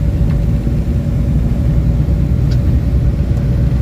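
A car engine drones steadily from inside the cabin during a drive between Adamshah Bazar and Kali Bazar, a loud, continuous low rumble with road noise and no breaks.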